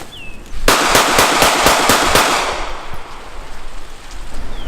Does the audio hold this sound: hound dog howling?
no